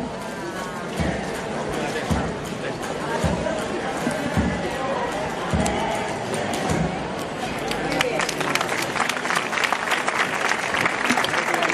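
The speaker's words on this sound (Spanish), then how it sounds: "Los aplausos que no faltan" A street crowd at the Fiestas del Pilar offering parade in Zaragoza applauds an Andalusian dance, dense sustained clapping with rhythmic beats and crowd murmur that swells louder toward the end.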